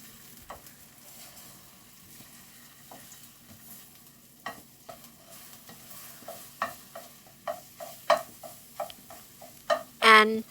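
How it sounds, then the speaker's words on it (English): Egg mixture being stirred and scrambled in an oiled pan while cooking a Singapore rice noodle stir fry, with a steady low sizzle under clacks of a utensil against the pan that grow louder and more frequent toward the end. "Now into the same pan, egg mixture straight in."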